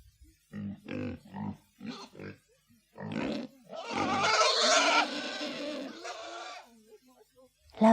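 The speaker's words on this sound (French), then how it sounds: "Le cochon." A pig grunts several times in short, rhythmic bursts, then lets out a longer, louder squealing grunt, all close and unaccompanied.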